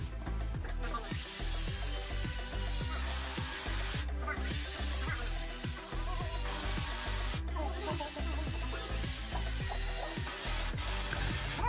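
A Tansu cordless drill drives screws in repeated bursts: whirring motor runs with rising whines, short pauses and sharp clicks between them, close and moderately loud with no talking.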